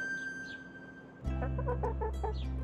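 Chicken clucking near a farm setting: a steady run of short rhythmic clucks over a loud low hum, clear and close.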